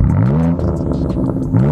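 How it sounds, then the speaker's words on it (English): BMW exhaust with its valves forced fully open by a dAHLer valve controller, revving loud and close with a deep, raspy, continuous roar that dips briefly then climbs again. "with dAHLer, you can hack the system to force them wide open to make it sound like this"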